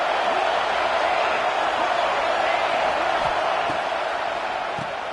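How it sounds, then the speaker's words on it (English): A stadium crowd at a football game roars in a steady, dense wash of cheering that fills the whole stretch, broad and sustained, with a few faint whoops standing out. "Listen to this crowd just shaking the girders of this place"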